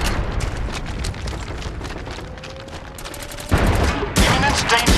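Mortar fire and heavy gunfire in the online shooter MAG: dense, rumbling bursts and booms that swell loudly in the last second and a half, with a faint tone in between.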